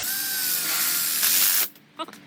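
A power driver sinking screws into an outdoor kitchen frame, a sustained whirring drive that rises and cuts off abruptly, followed by a couple of short clicks and rattles.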